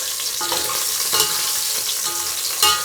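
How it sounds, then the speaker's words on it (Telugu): Egg biryani ingredients fry in a pan until brownish, a steady bright sizzle with a few louder stirring scrapes and clatters, close and continuous, with no talking. "కొంచెం ఇది బ్రౌనిష్ కలర్లోకి వచ్చేదాకా ఇట్లా వేపుకుందాము"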